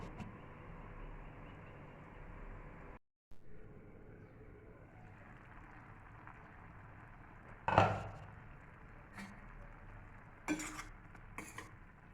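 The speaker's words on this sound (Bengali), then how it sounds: "পুঁই ডাঁটাগুলোকে মশলাটার সঙ্গে মিক্সড করে নেব।" Malabar spinach stalks are stirred into a spice mix in a pan, with faint scraping and clinks of a utensil against metal over a low background hum, a few sharper knocks near the end.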